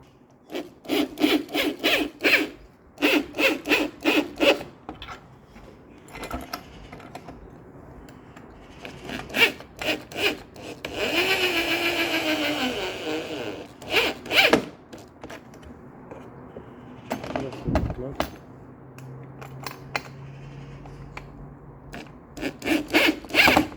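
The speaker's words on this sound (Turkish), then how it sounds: "civatalarımızı yerleştirdik şimdi sıkma işlemini yapıyoruz" A wrench tightens bolts on a luggage rack fitted to a 2024 Honda Forza 250 scooter, producing repeated close bursts of rasping, ratchet-like clicks separated by short pauses, with no talking.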